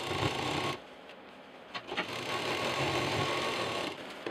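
A sewing machine stitching a bag pocket hums steadily up close, with a short dip partway through before the run resumes and continues to the end.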